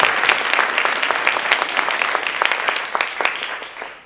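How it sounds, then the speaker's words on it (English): An audience claps at a community visioning day event, a moderately loud burst of many hands with distinct sharp claps scattered through the wash, gradually thinning and fading toward the end. "You clap for that."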